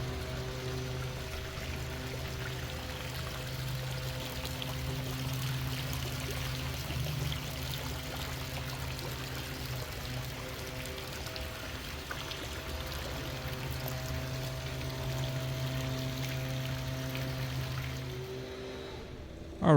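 A frog fountain at the Port Orleans French Quarter resort pours and splashes steadily nearby, a constant rushing of falling water with a low hum beneath it, running without a break until it ends abruptly.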